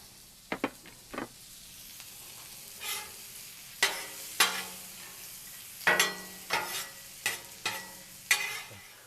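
Butter sizzles on a Blackstone griddle beside a ribeye tomahawk steak, under a run of sharp metal spatula scrapes that come in bursts, some in quick clusters, close up and with no voices.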